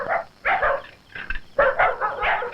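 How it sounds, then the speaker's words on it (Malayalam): Native village dogs bark in a string of loud, close bursts, several overlapping yaps coming quickly one after another. "നാടൻ പട്ടികൾക്ക് ഇത്ര ശൗര്യം ഉണ്ടെന്ന് എനിക്ക് ഇപ്പോഴാ മനസ്സിലായത്"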